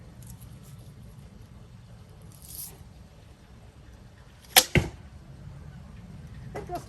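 An arrow is loosed from a roughly 40-pound Red Flower Tiger Manchu bow, giving a sharp snap of the string followed by a quick second thwack, close and crisp over faint outdoor background.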